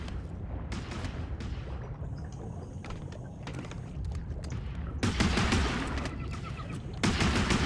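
Gunfire in the underwater shooter game Depth comes as bursts of sharp, rapid shots over a murky low rumble, with louder volleys toward the end and no talk.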